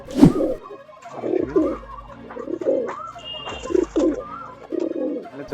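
Andhra pigeons coo in soft, repeated throaty phrases close by in a loft, roughly every second, with faint chirps and rustling between them.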